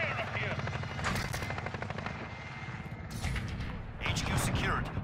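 Gunfire rattles through a Call of Duty: Warzone match in dense bursts, with heavier blasts near the end, while radio-style game voices talk over the shooting.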